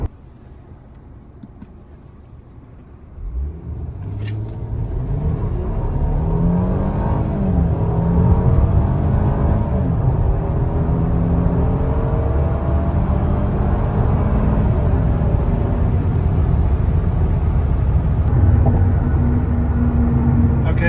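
Tuned Mercedes-Benz launches hard from a standstill, the engine note rising loud and close through the gears after a quiet idle, with a sustained roar and a faint wind rush.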